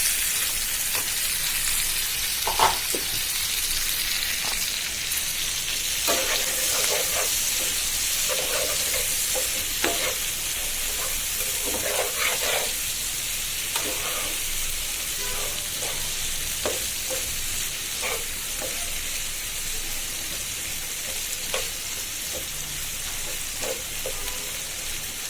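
Chopped tomatoes fry in a hot pan for a koi fish bhuna, a steady close sizzle broken by repeated scraping stirs of a spatula, with no talking.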